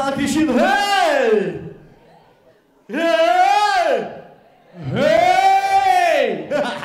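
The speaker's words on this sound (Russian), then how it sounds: "Правая часть зала кричит: «Эй!»" Half of a theatre hall audience at a KVN comedy final shouts "Hey!" together in three loud, drawn-out calls with short pauses between them.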